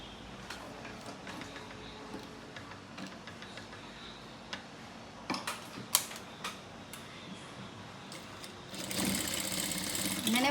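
A sewing machine stitches a joined bias strip, meant as a kurti or blouse drawstring, with white thread, running in a steady mechanical whir with ticking clicks and a louder, denser burst of stitching near the end.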